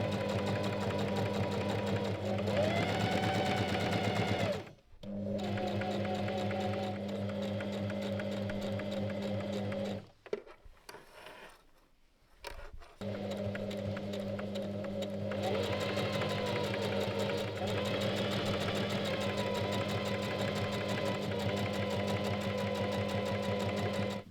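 Sewing machine stitching a seam on a cinnamon robe at a 1.5 cm seam allowance: a steady, close mechanical whir and hum in long runs, stopping briefly around five seconds and again near the middle before starting up again.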